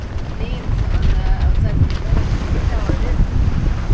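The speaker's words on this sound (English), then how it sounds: "The wind's picked up a bit." Wind rushes steadily past a sailboat on an open-water passage to Belize, a loud, gusty roar buffeting the microphone, with water and hull noise under it and a person speaking.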